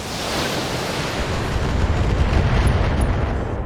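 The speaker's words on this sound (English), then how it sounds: "Locking in all weapon systems." Mech weapons firing in the BattleTech video game, a heavy, sustained roaring blast of broadband noise that swells and rumbles for several seconds with no voices over it.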